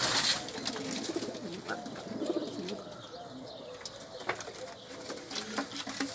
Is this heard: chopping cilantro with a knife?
no